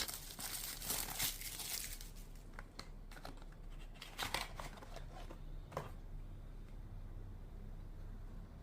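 Packaging for a Mont Blanc Individuel men's perfume crinkles and rustles up close, with bursts of crackling in the first few seconds, then sparser handling sounds over a steady low background hum.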